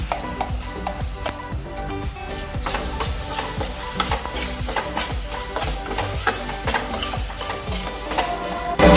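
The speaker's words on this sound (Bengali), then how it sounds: "এবার এতে আমি এই পেস্টটাকে ঢেলে দিচ্ছি" Moong dal paste hits a hot pan with a loud, steady sizzle, and repeated scraping stirs run through it for the whole stretch. No one speaks.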